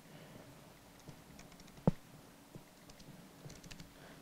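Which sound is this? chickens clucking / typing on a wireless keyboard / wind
typing on a wireless keyboard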